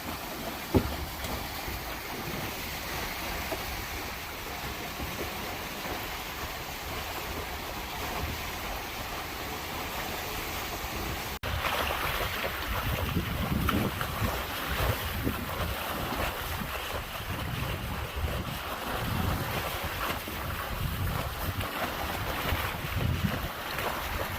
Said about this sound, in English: sails trimmed up. Looking good. Doing about 6 knots.